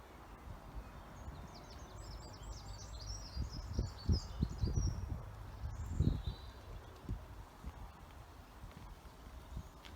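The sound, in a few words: birds singing outdoors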